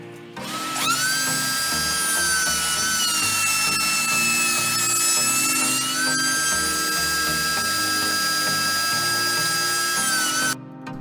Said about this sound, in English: Back at the router now